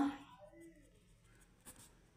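A pen scratches across paper in short strokes, quiet and close, with a few light scrapes and a small tap near the end, and no voices over it.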